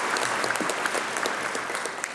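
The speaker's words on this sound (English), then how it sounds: "I'm clapping on that one." Steady applause fills a legislative joint convention chamber, an even wash of many hands clapping without pause for the whole stretch.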